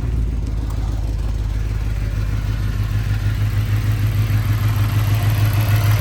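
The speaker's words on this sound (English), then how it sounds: "I'll leave the engine running for now" An Audi RS4's engine runs at a steady idle while misfiring with the coolant light on, a loud, continuous low rumble held close throughout with no talk.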